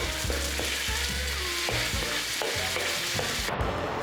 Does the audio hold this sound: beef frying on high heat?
yes